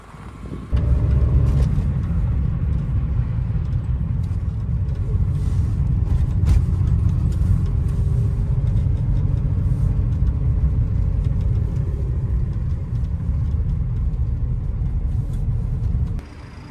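A Suzuki Jimny with a small 0.7-litre engine idles steadily in extreme winter cold around minus 42 to minus 50, a constant low rumble that starts abruptly and holds level, close and alone.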